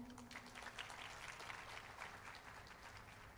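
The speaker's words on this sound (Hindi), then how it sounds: "एकल विद्यालय के लिए ज़ोरदार तालियां हो जाएं." Faint applause for Ekal Vidyalaya rises from a concert audience, a soft, distant patter of many hands clapping evenly throughout.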